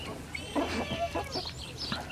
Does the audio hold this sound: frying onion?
no